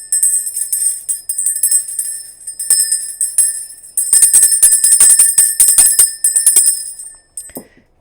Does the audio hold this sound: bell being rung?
yes